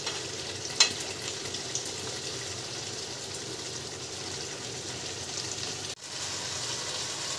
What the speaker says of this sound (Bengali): এই দেখুন কষা হচ্ছে, কষা হয়ে গিয়েছে